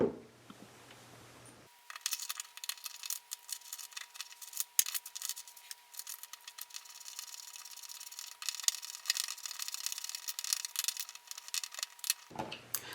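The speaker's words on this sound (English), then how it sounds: "we'll screw that second metal bracket onto the wall" Screwing a metal bracket onto a drywall wall, a long run of scraping, rubbing and ticking from the screw and driver with scattered sharper clicks, close and fairly quiet.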